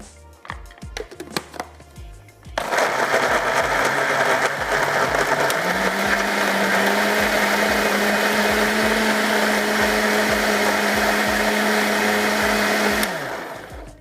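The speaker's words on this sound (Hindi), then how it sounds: "इसको कर लेते हैं ब्लेंड।" An electric blender whirs loudly and steadily for about ten seconds as it purees fried onions with a little water. It starts abruptly and stops sharply, with no talking over it.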